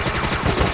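Dense burst of rapid gunfire in a Resident Evil multiplayer match, loud and continuous, several quick shots running together over less than a second with no talk.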